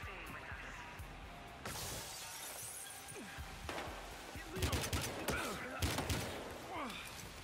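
Gunfire in a hotel in the game Battlefield Hardline, scattered muffled shots, crashes and shattering, growing busier toward the end, with game voices talking underneath.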